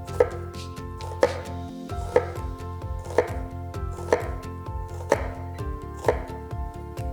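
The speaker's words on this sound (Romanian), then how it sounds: "Fixăm ceapa și începem să tăiem fâșii subțiri." Knife slicing an onion into thin strips on a cutting board, a steady series of seven crisp chops about once per second, close and clear with no talk.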